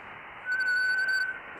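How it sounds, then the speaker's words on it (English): A single steady, pure whistled tone held for under a second over a background of radio hiss, sounded while waiting for an amateur radio satellite pass. "Let's give it another whistle."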